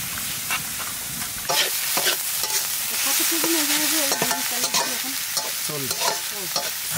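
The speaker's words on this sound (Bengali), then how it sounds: "এটা হচ্ছে শুকনো চালের গুঁড়ি, জলে সুন্দর করে গুলে নেব" Dry rice flour stirred into water in a bowl for a Bengali festival dish, a steady wet swishing with repeated spoon scrapes and clinks against the bowl, close up and continuous, with no talk.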